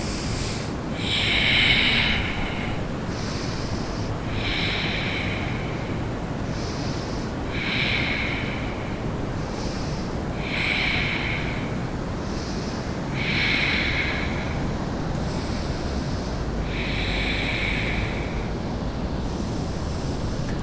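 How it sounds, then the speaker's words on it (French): Deep, slow breathing during a yoga session, a steady rhythm of airy inhales and exhales repeating about every two to three seconds over a continuous low background hum, close and moderately loud. "Continuez de respirer profondément."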